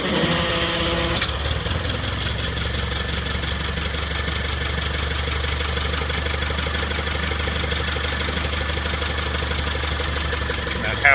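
A car engine idles after a cold start on a weak battery that only gives about 11 volts, with the gas held on. It makes a steady, close, rough drone with a knocking rhythm throughout and a sharp transient near the start.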